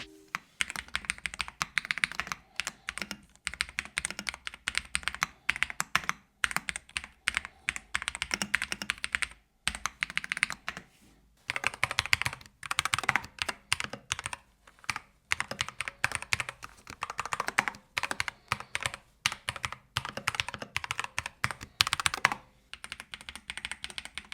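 Fast continuous typing on EPOMAKER Ajazz AK820 Pro and EP64 wireless mechanical keyboards, crisp clicky keystrokes in dense bursts with brief pauses, close and clear with no voices.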